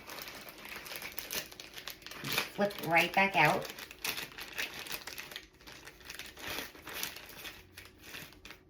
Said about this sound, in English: Squeeze all the air out of it and then zip her up.